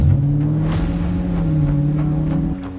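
A GM 6.2-litre V8 with a dual sports exhaust and 6-speed automatic, fitted in a restored Land Rover Station Wagon, gives a steady, close rumbling drone that holds level for a few seconds before easing off, with no other sounds.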